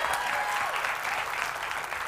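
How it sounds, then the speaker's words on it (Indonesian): Steady, dense applause from a crowd, continuous clapping that fills the whole moment without letting up. "tepuk tangan buat Hesti"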